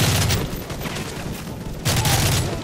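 Machine gun fire in Modern Warfare 3, loud dense bursts of automatic shots with heavy booms, a dip in the middle before another burst, all without talking.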